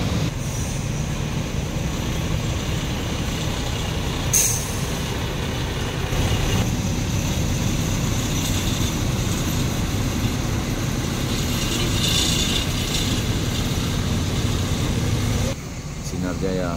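Sumatran intercity buses pull into Kampung Rambutan bus terminal with a constant heavy engine rumble and road noise, broken by a couple of brief sharp air-brake hisses.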